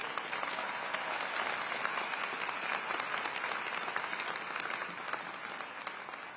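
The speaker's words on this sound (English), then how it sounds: "So let's give him a round of applause." Sustained crowd applause at a Howard University commencement ceremony greeting the incoming university president, a dense, steady wash of many hands clapping from a large audience throughout, with no talking.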